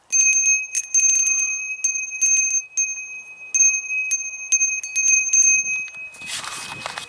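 A small bell rings again and again in quick, uneven strikes, bright and close, for several seconds, then a brief burst of broadband noise follows.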